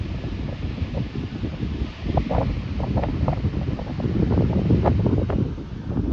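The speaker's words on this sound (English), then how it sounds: "it's a little windy" Steady wind roars and buffets the microphone throughout at Sonora Pass, California, a continuous low rumble with gusty swells and faint rustling mixed in.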